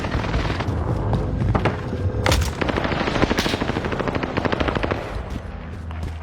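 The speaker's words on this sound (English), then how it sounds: "Here comes the airstrike." Rapid gunfire and heavy explosions from a precision airstrike in a first-person shooter video game, with dense bursts of automatic fire and booming blasts, loud and continuous with no talk.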